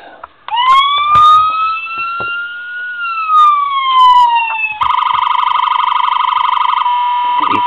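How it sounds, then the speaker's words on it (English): A loud electronic siren wails from a custom 1:24 scale Ford Crown Victoria Police Interceptor toy, sweeping up and then down, then switches to a rapid warbling tone, bright and close like a small toy speaker. "Hit the siren on it."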